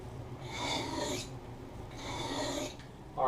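A knife blade is drawn across a wet whetstone in two long, slow strokes, each a close, gritty rasping scrape with a short pause between them.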